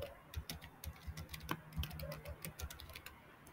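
Steady clatter of keys on a computer keyboard as a Linux command is typed on Fedora, quick irregular taps close up with a low background hum.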